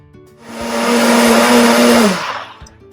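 A blender whirs up loudly on its smoothie setting, blending watermelon and spinach in a rising whine that holds for about two seconds before spinning down, close and alone.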